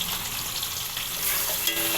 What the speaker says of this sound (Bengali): এবার এর মধ্যে দেব পেঁয়াজের পাপড়িগুলো